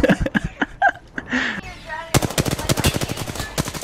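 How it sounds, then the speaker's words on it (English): Rapid automatic gunfire crackles in Apex Legends, opening with scattered shots and excited voices, then a dense close burst of rapid shots fills the second half. "We're getting sniped at!"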